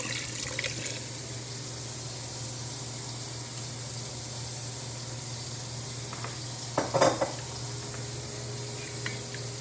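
Water is poured into a pot of Haitian stewed chicken (poule en sauce), giving a steady close liquid hiss that swells into a brief burst of splashing near the end; no one speaks.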